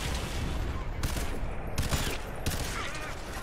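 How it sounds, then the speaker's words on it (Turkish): Rapid gunfire from a weapon in the video game Crysis 3, dense bursts of shots over a constant loud battle din, with sharp cracks recurring about every half-second to second. "Bu silah bir muazzam ya."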